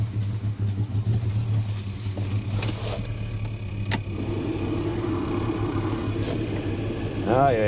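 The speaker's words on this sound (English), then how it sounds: "Now I'll turn the fan on again." Heater blower fan running inside a Holden HK car, a steady low hum and rumble throughout with brief clicks, while a person speaks briefly nearby.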